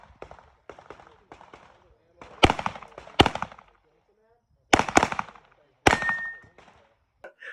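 Pistol shots ring out at a USPSA shooting match, a few quick sharp reports at first and then louder single shots spaced a second or so apart, with quiet gaps between them.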